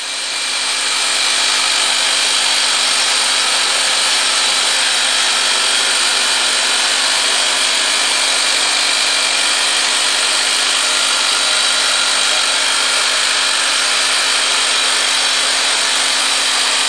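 A MacLean 900 Series scissor bolter drills and installs ground-support bolts in a mining or tunnelling heading, giving a loud, steady, unbroken mechanical roar with no voices throughout.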